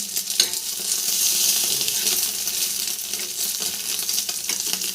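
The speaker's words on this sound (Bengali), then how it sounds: "তারপরে ডিমটা ভাজছি" An egg fries in a pan, giving a steady, bright sizzling hiss with a few sharp ticks and pops over five seconds.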